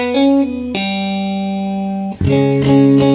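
A sustained electric guitar note rings with a clear harmonic tone, then a brief dip before new notes are struck, slightly bright and buzzy.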